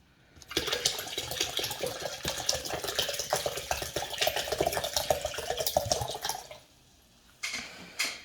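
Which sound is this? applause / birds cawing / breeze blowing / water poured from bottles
water poured from bottles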